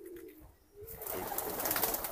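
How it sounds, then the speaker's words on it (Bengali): Pigeons on a homestead farm, where many birds roost on the roof and around the house, give a brief low coo and then a burst of rustling and fluttering close by, with no one speaking. "আর কবুতর কিন্তু দেখুন এই যে"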